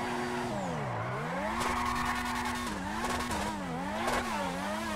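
An open-wheel race car in GTA V, its engine revving up and down in steady pitch sweeps as the tires skid and screech, loud and close for the whole stretch with no talking.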